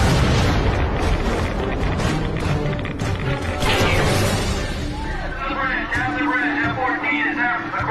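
A US Navy F-14 Tomcat explodes into a fireball during a high-speed fly-by, a loud rumbling roar and boom that fills the scene, then breaks into crackling, tumbling noise as voices shout over it.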